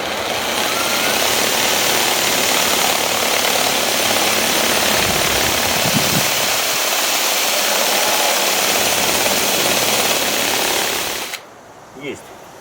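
A drill boring a hole in a homemade stand for gong and hanging target shooting, a steady loud whirring drone that runs for about eleven seconds before stopping abruptly, leaving a faint quiet tail.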